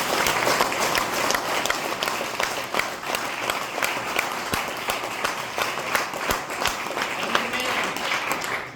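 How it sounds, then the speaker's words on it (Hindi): Dense, sustained applause from a meeting audience, many hands clapping steadily at close range for the whole stretch without a break. "एक बार जोरदार ताली हो जाएगी।"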